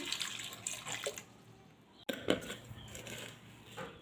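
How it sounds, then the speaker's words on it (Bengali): Water poured into a pressure cooker holding potatoes, a short close splashing trickle with a brief clank partway through. "আর অল্প একটু জল দিয়ে দিচ্ছি"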